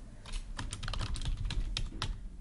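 Fingers tapping on a computer keyboard in a quiet room, a quick irregular run of light clicks close by with no talking.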